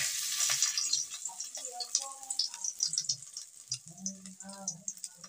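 Lentil dumplings (bori) dropped into hot oil in a kadai, soft crackling sizzles and light clinks under quiet talk and kitchen handling noises.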